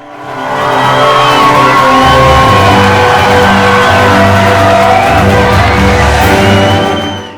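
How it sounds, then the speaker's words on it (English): A loud, dense crowd cheers and shouts continuously, with whoops and voices layered over a steady roar throughout. "As the crowd's cheers filled the air"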